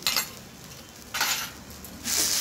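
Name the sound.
stirring gourd egg curry with spices in a pan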